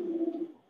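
A Pakistani Teddy pigeon gives a single soft, low coo lasting under a second, close by and clear against a quiet background.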